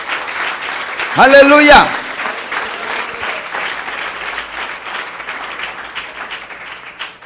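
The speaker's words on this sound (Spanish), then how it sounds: "Dale un fuerte aplauso al Rey." Sustained applause fills a church, with a brief burst of a voice singing or shouting over it near the start.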